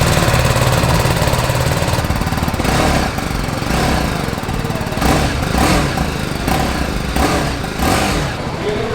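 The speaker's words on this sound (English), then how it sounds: "I definitely rode the old 310 GS, and this sounds definitely smoother and refined." A BMW 310 GS motorcycle engine with a refined exhaust runs steadily nearby, a loud buzzing drone with repeated throttle blips that punch through in rhythmic bursts.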